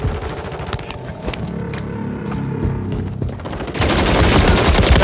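Dense bursts of automatic gunfire and booming shots in a Call of Duty match, loud and near, intensifying into a heavy sustained barrage at the end.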